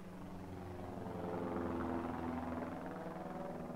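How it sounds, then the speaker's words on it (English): World War II fighter plane flying over in a 1971 film, a low rumbling engine drone that swells slightly at mid-clip and then holds steady, with no speech. "That sounded like a World War II fighter."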